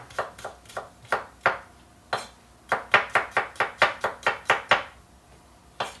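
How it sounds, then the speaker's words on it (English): Knife chopping garlic on a cutting board for a ragu: sharp, close chops in short bursts, a few spaced strikes first, then a quick steady run of about a dozen, with no voices. "let's chop the garlic"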